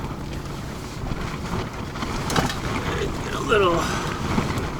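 Steady wind buffets around a tent during a desert windstorm in Quartzsite while someone cooks inside, a continuous rushing roar with gusts and brief flapping, under a few spoken words.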